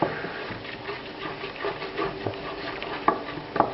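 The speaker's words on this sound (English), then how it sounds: "we'll add the 2 tablespoons of flour to it. Stir it around" Flour being stirred into foamed butter in a pan over reduced heat for a roux, soft scraping and spoon taps with a few sharper clinks near the end, fairly faint.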